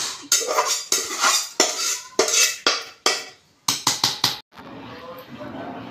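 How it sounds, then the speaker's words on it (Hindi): Cooked rice being mixed into sweet syrup in a pot, heard as repeated close scraping and clinking strokes of a metal spoon against the pot in an uneven rhythm, ending in a quieter steady hiss. "देखिए मैं शीरे में अपने चावल पके हुआ मिला दी हूँ"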